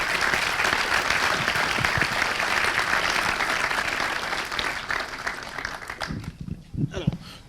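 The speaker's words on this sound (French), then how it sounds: "Sous vos applaudissements, là encore," Audience applause at a round-table business conference, steady dense clapping that gradually thins out and fades over the last couple of seconds into scattered claps.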